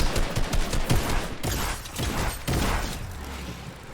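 Rapid bursts of close-range shotgun fire in a competitive shooter played on mouse and keyboard, loud and clustered, with sharp blasts and mechanical clatter running through the whole stretch.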